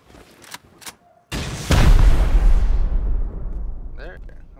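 A rocket explosion in a video game: a sudden heavy boom followed by a long, loud rumbling roar that slowly fades, preceded by a few short clicks and followed by faint game sounds.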